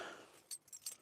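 A set of keys jangling briefly in a car, faint metallic clinks and rattles in a few quick bursts close by.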